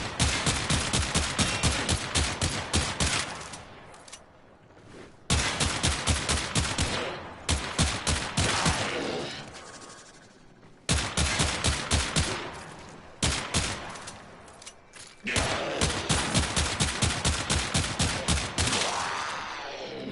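Rapid automatic gunfire from the Akjagara pistols in Warframe, fired in four sustained bursts of fast, evenly spaced, loud shots with brief pauses between them.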